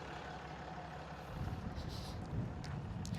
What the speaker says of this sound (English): it's a good idea to keep that truck running